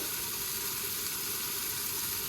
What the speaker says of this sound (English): we're just going to let that just sizzle away